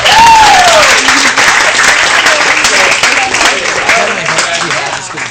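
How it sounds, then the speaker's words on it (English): Wedding guests applaud at a reception, loud and close, a dense steady clapping that carries on for several seconds and slowly eases off. "Give them a round of applause."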